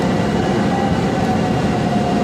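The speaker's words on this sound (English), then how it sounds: "just take the new tram back to the terminal" Steady rumbling rail noise from the airport tram at Orlando MCO running between Terminal C and Terminals A and B, a constant loud hum and rattle with a faint whine, without any talk.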